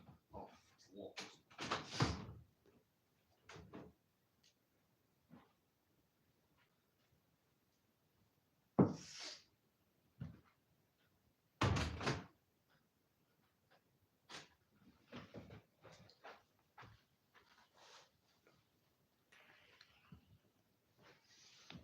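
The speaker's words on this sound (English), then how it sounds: "It's literally just here, so you'll probably hear the door." A conservatory door is tried in a quiet room: a few sharp clunks and rattling knocks come at intervals between long near-silent stretches, with faint shuffling and breathing.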